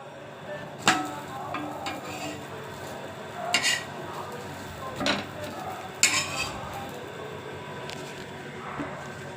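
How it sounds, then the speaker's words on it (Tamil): A dosa being flipped on a hot pan: a few sharp metallic clanks and scrapes of a spatula, spaced a second or two apart, over a soft background sizzle. "அதுக்கு முன்னாடி தோசையை திருப்பிக்கலாம்"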